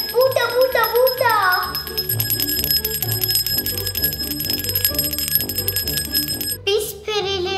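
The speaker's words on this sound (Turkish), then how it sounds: "zil çalıyor" A bell rings in a children's fairy transformation game, its steady bright tones sustained through the clip under a busy cartoon music bed, with a child-like voice talking over it.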